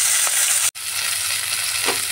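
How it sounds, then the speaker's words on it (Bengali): Pieces of rohu fish fry in hot oil with a steady, dense sizzle that cuts out for a moment and resumes, close and loud, with a faint stir or scrape near the end and no voices. "লাল করে ভেজে নিচ্ছি।"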